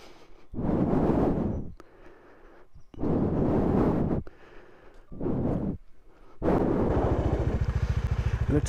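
A Bajaj Dominar 400 motorcycle rides across a hanging bridge, its engine rising in several loud, windy bursts with short lulls between, then settling into a steady, throbbing idle-like drone at the end.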